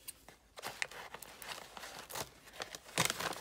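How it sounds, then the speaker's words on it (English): Crinkly rustling and rattling of a candy cane gift sack being handled and opened, with irregular close crunches and tearing-like bursts, loudest near the end. "all the rattling noise or rustling noise"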